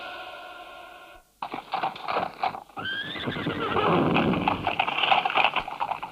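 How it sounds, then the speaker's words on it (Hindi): A horse whinnies loudly, then gallops, with rapid hoofbeats building to a dense, driving clatter in a dramatic sound effect for a radio play. "टीपू रात दिन घोड़ा दौड़ाता हुआ आरकाट पहुंचा"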